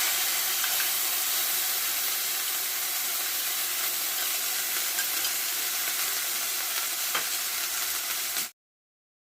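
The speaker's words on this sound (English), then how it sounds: "I will add the onion paste. Now it's ready to add the paste." Onion paste frying in hot oil with whole cinnamon and cloves for a restaurant-style soya chunks curry, a steady close broadband sizzle with faint stirring scrapes that runs unbroken for about eight and a half seconds, then stops abruptly.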